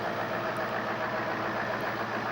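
A heavy-duty 6x4 Mercedes road train tractor unit engine rumbles steadily at idle, a constant low drone close by with no voices.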